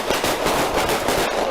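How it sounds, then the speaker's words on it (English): Rapid bursts of gunfire crackle loudly in a dense, continuous volley during a police shooting in the snow, shots overlapping with no pauses between them. "leading to more gunfire."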